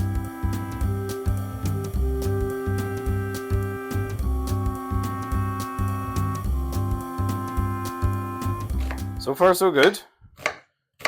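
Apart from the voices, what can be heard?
chopping onion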